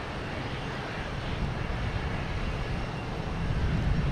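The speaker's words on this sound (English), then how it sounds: "Now we got 22 right, clear for takeoff, which is a Cape Air heading to Hyannis" Steady broadband roar of a Cape Air plane taking off from runway 22 right at Boston Logan Airport, heard from a distance as a continuous engine rumble that swells slightly toward the end.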